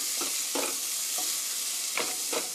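Garlic and onion with chili flakes stir-fried in a pan for a beef stew with zucchini, a steady sizzle with a few quick scraping stirs close by, no talking.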